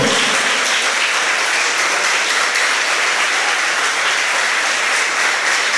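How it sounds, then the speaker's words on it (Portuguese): Dense, steady applause from a large church congregation, sustained evenly throughout with no pauses. "Aplauda ao Senhor."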